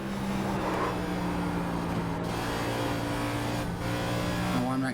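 Next Gen race car in iRacing at Nashville Superspeedway with the low downforce package, a steady droning engine note held at high revs, dense and continuous with a slight pitch change near the end.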